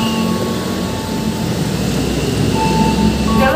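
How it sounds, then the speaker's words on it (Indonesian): A KRL commuter electric train, a 10-car JR205 set in new livery, pulls into Jakarta Kota station on track 17, a loud steady rumble and roar of wheels and motors close by, with faint squeals, no voices. "Ini KRL-nya datang nih."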